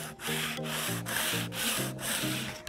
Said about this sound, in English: I'm just gonna do a very light sand.